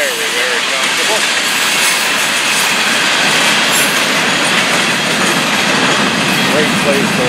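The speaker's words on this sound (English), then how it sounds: "Great place to watch the train." A Florida East Coast Railway freight train passes loudly and close by, a continuous roar of wheels on rail with clattering cars and occasional squealing wheels, sustained steadily throughout.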